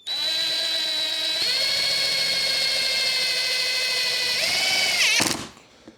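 A power drill drives screws through a jig into a Harley-Davidson touring saddlebag lid, whining steadily and loudly for about five seconds. The pitch shifts slightly as the screw seats, then the drill stops abruptly.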